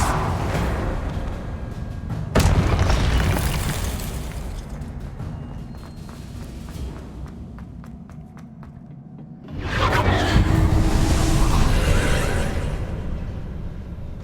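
Heavy booming blasts from Confringo spells in Hogwarts Legacy, with a sharp burst near the start and a second broad, rumbling explosion later, each fading into a long roaring tail over game ambience.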